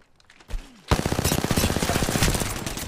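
Rapid automatic gunfire in a battle royale video game, after a couple of single shots a sustained burst of evenly spaced, loud, close shots rattles on continuously to the end.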